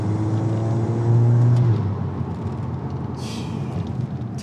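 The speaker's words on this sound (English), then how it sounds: "Turbo noises. Beautiful. This car is crazy. Pops and bangs." A Volkswagen Golf R Mk8 with an open air intake revs hard with a rough, throaty drone, then a sharp turbo whoosh and crackling exhaust pops cut through near the end.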